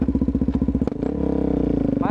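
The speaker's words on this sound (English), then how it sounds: "my exhaust does sound pretty damn good" A motorcycle fitted with a Yoshimura exhaust idles close by with a loud, choppy, lumpy pulse, blips once near the middle, then settles back into a quicker steady idle.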